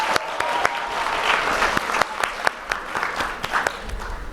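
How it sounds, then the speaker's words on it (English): Audience applause for teacher Mr. Ahmed at an 8th grade graduation ceremony: a dense, sustained crowd clapping that stays fairly steady throughout, with sharper individual claps standing out. "Please give him a round of applause."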